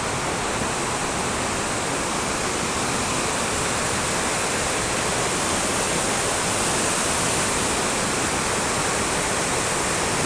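A large village river in flood season rushes past near a bamboo bridge by paddy fields, a loud, dense, unbroken roar of flowing water with no voices.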